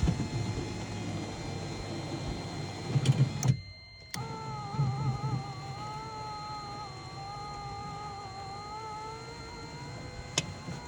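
A repaired motor runs with a steady whine and faint wavering tones after a brief clatter and a moment of near silence, fairly quiet and close, with no voices over it.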